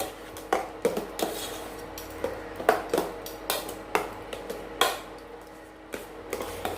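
Kali being stirred slowly in a pan over a medium flame, a spoon scraping and knocking against the pan in irregular clacks about once or twice a second, close and moderately loud with no talking.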